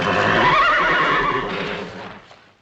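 A horse whinnies loudly and close, a long shrill neigh that trails off over a couple of seconds, with faint hoof clip-clop underneath.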